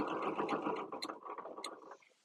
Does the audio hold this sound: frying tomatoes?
no